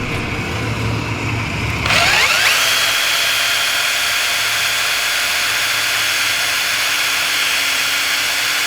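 A power drill whirs briefly and loudly inside a 1996 Subaru Legacy during a subwoofer install, followed by a steady, fainter hum and hiss.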